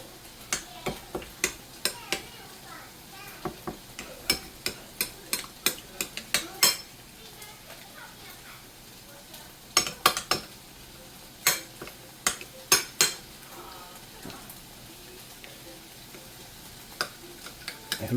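Spoon scraping and clinking against a bowl while mixing a fajita burger spread with lemon, irregular sharp ticks in clusters, fairly close, with soft kitchen background and no talking.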